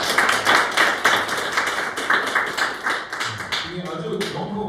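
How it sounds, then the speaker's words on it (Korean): An audience claps in a Korean lecture setting, a dense burst of hands that stays fairly loud and then trails off as a voice begins speaking. "오, 박수 한번 주세요."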